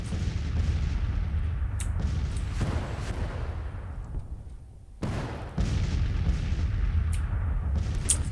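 Cannon fire booms through a Civil War strategy game battle, with a continuous rumble of guns and distant volleys and a sharp, heavy report near the middle. No one speaks.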